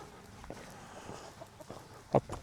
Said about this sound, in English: No, no, it's a chicken.